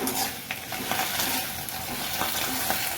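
Thoothuvalai chutney ingredients and coriander leaves sauté in a pan, a steady sizzle and fry broken by light scrapes and clinks of stirring, with no talk.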